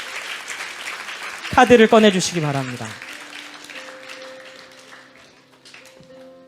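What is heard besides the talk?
congregation applause at worship meeting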